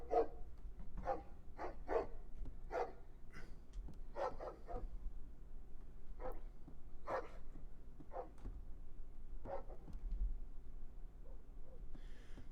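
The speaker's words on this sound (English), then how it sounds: "we've got a dog in this bedroom" A video game dog barks in a bedroom in a string of sharp, separate woofs spread over several seconds, with slight room echo and a low steady hum underneath.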